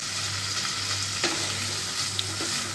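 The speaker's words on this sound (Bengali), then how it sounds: "সবজিগুলো ভালোভাবে কষিয়ে নিতে হবে।" Mixed vegetables stir-fried in a pan over medium heat give a steady, close sizzle with a few soft scrapes of a spoon against the pan.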